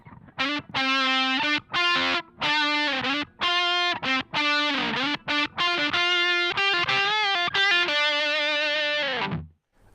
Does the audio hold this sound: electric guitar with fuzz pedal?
yes